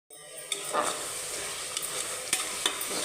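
A spice mixture of ground coriander and other powders fries in a pan for spinach pulao, a constant close sizzle with a few light spatula taps and scrapes and no talk.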